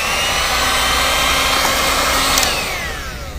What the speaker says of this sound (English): let's try our hot air gun and dry this off a little